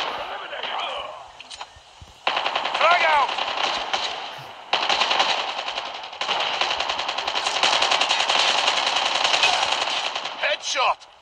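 Rapid automatic gunfire from the mobile shooter Call of Duty Mobile plays in long bursts with brief pauses, loud and close, with faint game sounds between volleys.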